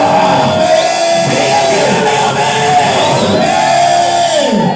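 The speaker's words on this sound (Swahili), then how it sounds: "Piga kelele amina." A church congregation shouts amen together, a loud, sustained roar of many voices filling the room for several seconds.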